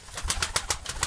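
Pigeons cooing close by in a rapid run of soft, throaty pulses, about six or seven in quick succession, with no one speaking.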